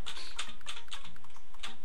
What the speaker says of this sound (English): I can hear Luke googling it